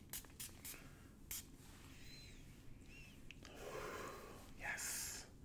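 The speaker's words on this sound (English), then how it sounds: "I'm going to be spraying a little bit now for myself and for you all here watching." A few soft hissing bursts of a mist spray bottle, close by, with quiet breathing and faint background noise between sprays.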